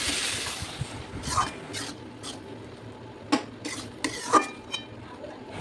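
A spoon stirs softened, mushy potatoes in a cooking pot for a vegetarian pointed gourd and lentil dish, giving scattered scrapes and clinks against the metal at irregular intervals over a low background hum.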